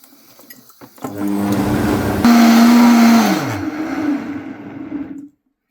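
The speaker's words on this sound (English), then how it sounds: "About a minute on the blender or so" A blender whirs up a green smoothie of greens and water. It kicks on, climbs to a loud steady whine, then winds down and cuts off abruptly, with no talking over it.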